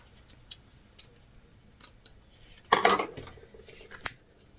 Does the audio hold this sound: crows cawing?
no